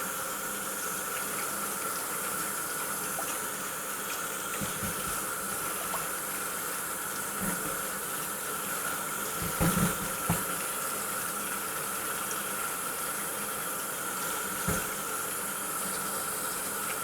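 Cold tap water runs steadily into a kitchen sink while vegetables are rinsed of dirt, a constant near hiss with occasional knocks and splashes from handling.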